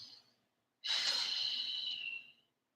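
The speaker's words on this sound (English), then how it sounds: "One more deep breath." Deep breath taken during a yoga stretch: one long, close, breathy rush of air lasting under two seconds, heard alone after a short quiet pause.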